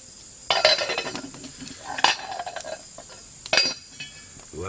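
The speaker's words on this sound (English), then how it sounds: "Get that shoved over the fire, over the coals there, and get the lid on it." A metal pot scraped across hot coals on an open fire and a lid clanked onto it for spicy rice, with sharp clinks and scrapes in a few bursts over a steady insect-like outdoor hiss.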